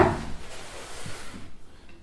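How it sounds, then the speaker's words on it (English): A cellar door at the Mill Street Barracks, pushed and wedged open during a ghost hunt, gives a brief close thump and scrape at the very start, then fades into a quiet room. "What I'm going to do is just wedge the door open."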